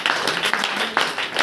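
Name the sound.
congregation clapping hands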